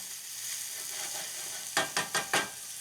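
Garlic and red onions fry in a pan with a soft continuous sizzle, followed by four quick stirring scrapes in a row near the end.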